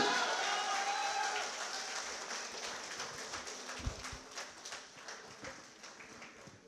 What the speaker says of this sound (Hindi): ताली बजती रहनी चाहिए जोरदार।